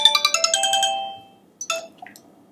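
Phone ringtone plays a bright melodic chime of rapid repeated notes, stops, then a short second snippet of the tune sounds after a pause; loud and close, no talking.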